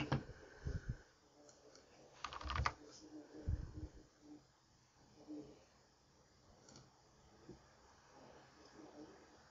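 Typing on a computer keyboard while writing Python code comes as short, faint bursts of clicking keys, busiest early on, then sparse taps over low room noise.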